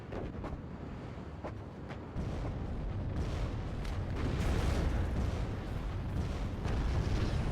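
Missiles launching and exploding in the WARNO war strategy game, a few sharp cracks early on giving way to a heavy, continuous rumbling roar of blasts and rushing noise that builds and stays loud, with no talk.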